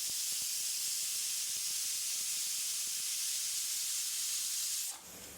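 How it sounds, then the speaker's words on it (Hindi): A pressure cooker cooking dal makhani vents steam through its whistle with a loud, steady hiss that lasts about five seconds and then cuts off abruptly. "कुकर की 10 सीटी हो चुकी है"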